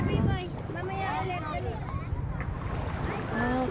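A jet ski runs on the sea just off a beach, its motor a distant drone buried under steady wind rush and a person talking nearby.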